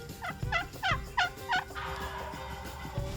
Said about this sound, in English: I think those turkeys are going to work their way out into this wheat field.